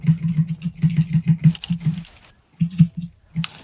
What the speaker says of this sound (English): we can hear your keyboard, bro